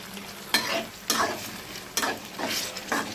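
Ginger garlic paste sautéing in a pan for a meat curry makes a soft, close sizzle, broken by four scraping stirs at a fairly even pace.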